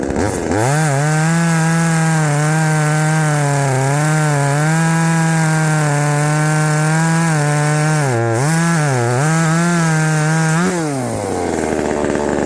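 One-handed chainsaw cutting through an ash log about 15 to 20 cm across, a loud steady buzzing engine note that bogs slightly under load, then winds down at the end; close and continuous.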